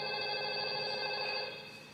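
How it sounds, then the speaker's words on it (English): A telephone rings steadily and fairly loud for about two seconds, an even electronic tone that fades slightly at the end, with no talking over it. "That's the phone, Ken."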